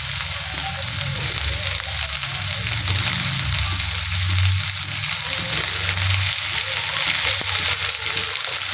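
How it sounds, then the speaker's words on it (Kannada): Two medium tomatoes and a couple of garlic cloves fry in a hot pan, a steady dense sizzle that holds loud and unbroken throughout, close up with no talking. "ಇದನ್ನ ಇವಾಗ ನೀಟಾಗಿ ಫ್ರೈ ಮಾಡ್ಕೊಳ್ಳೋಣ"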